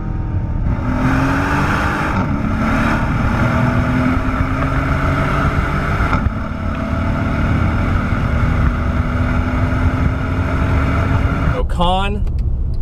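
A 2015 Mercedes-AMG E63 with a V8 exhaust, a loud steady rumbling drone with rising engine pitch that holds throughout, ending in a brief sharp rev burst.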